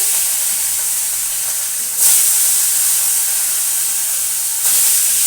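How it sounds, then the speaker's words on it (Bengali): Fish fry in plenty of hot oil with a loud, steady hiss that swells sharply twice, close up and without speech. "তাই বন্ধুরা এই মাছগুলো একটু ভেজে নিই অনেকটা তেল আছে"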